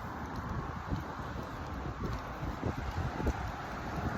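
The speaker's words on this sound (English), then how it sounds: "It's very windy out here." Steady wind blows outdoors across the microphone, a faint, rumbling rush with soft gusty buffets and low rustle, continuous and alone without talk.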